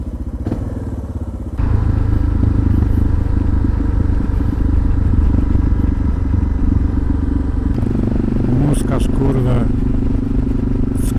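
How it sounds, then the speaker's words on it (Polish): A Suzuki motorcycle engine roars steadily at close range while riding through town, with rattling and thumps, and a voice speaks over it briefly. "jeździ sobie po mieście motorkiem"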